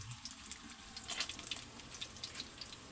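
Fish frying in hot oil, a steady crackling sizzle with dense bright spatters holding at an even level throughout, no voices.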